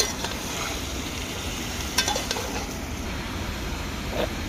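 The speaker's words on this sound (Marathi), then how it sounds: "आता मस्त त्याला हळदीमध्ये आणि तेलामध्ये परतून घेणार आहेत मित्रांनो." Steady frying hiss from a pan of food being sautéed in turmeric and oil, a continuous moderate sizzle with a few faint clinks of a spatula or utensil against the pan, no voices.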